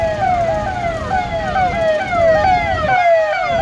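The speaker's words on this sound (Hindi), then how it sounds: "पहले जरा ये देखिए जिसमें एम्बुलेंस फंसी हुई है" An ambulance siren wails from a vehicle stuck in a highway traffic jam, loud and close, with repeated falling sweeps over a rumble of traffic.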